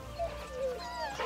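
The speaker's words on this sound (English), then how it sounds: "There's always the standard whimpering noise." Dog companion whimpering in the Final Fantasy XVI video game, a few soft high whines in quick succession, quiet and close, with no talk over them.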